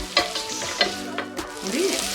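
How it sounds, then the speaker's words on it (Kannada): Onion and tomato fry in a pan for a cluster beans gravy. The oil sizzles up close, and a few sharp spoon-against-pan scrapes and clinks stand out as the mixture is stirred. "ಈರುಳ್ಳಿ ಟೊಮೆಟೊ ಇದೆಲ್ಲ ಚೆನ್ನಾಗಿ ಫ್ರೈ ಆಗಬೇಕು"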